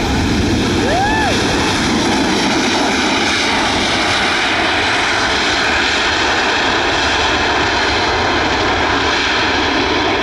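Southwest Airlines airliner passing at Buffalo airport at night, a steady broad engine roar holding loud and constant throughout with a faint whistle-like tone near the start.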